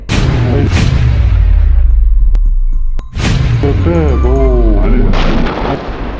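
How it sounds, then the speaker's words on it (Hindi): A loud, booming explosion as a tank hits an explosive charge, with a long rumbling tail, followed by a second tank blast, with sharp cracks and distant shouting voices in between. "जैसे ये टैंक बारूद वाली जगह पर पहुंचता है वैसे ही वहां पर जोरदार धमाका हो जाता है"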